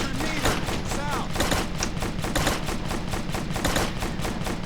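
Rapid bursts of scoped rifle fire in Operation Flashpoint: Dragon Rising, loud and close, with shots crowding together in a dense, steady volley that runs for several seconds.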